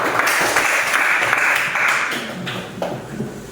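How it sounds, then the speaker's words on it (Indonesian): Classroom applause for fellow students, a steady patter of clapping hands sustained for a few seconds at moderate loudness before thinning slightly toward the end. "beri aplaus buat teman-teman"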